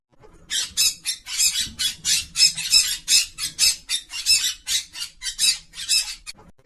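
A parrot gives a rapid series of loud, harsh squawks as an alarm call, about a dozen sharp bursts repeating steadily for several seconds, close and alone.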